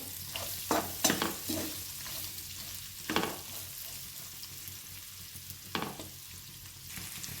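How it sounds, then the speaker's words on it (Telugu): Spiny gourds frying in a pan, a soft, steady sizzle heard close under repeated scraping stirs, with several brief louder strokes of the spoon across the pan. "ఇప్పుడు బోడకాకరకాయలు వేసుకుందాం. వేసుకొని బాగా కలుపుకోవాలి."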